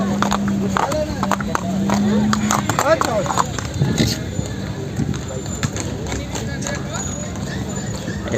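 A mare's hooves clip-clop in a quick, uneven rhythm as she dances at a horse fair, beneath a busy crowd with steady chatter and music nearby.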